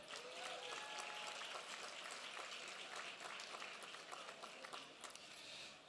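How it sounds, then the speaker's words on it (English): Audience applause at a philanthropy award ceremony, a dense crowd clapping steadily from start to finish and easing slightly near the end, heard from some distance, with a few faint voices mixed in. "would people here join me in giving them a round of applause?"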